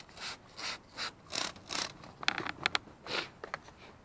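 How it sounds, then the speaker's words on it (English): A spray bottle trigger pumped repeatedly, misting Black Magic wheel cleaner onto a car wheel: about a dozen sharp hissing bursts in an uneven rhythm, with faint plastic clicks from the trigger, close and clear. "Spray the whole wheel with Black Magic."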